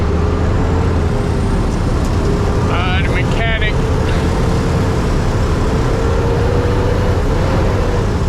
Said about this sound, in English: damn, this truck is so loud, man.